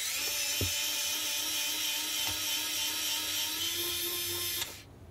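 Electric screwdriver backing screws out of a 48V 11Ah Dillinger ebike battery casing: a steady, close, high whirring drone with brief clicks, its pitch rising slightly before it cuts off abruptly near the end.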